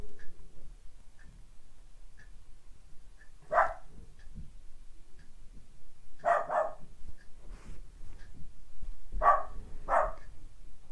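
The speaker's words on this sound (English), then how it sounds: "dogs upstairs are barking." Dogs barking on the floor above, heard as three short bursts of muffled double barks spread a few seconds apart, with faint ticking and quiet room noise in the gaps.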